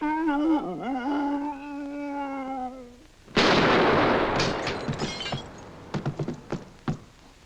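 A gunshot in a 1955 comedy film: a sustained musical tone gives way to a sudden loud crack, followed by a burst of rattling, clattering debris and several sharp knocks trailing off.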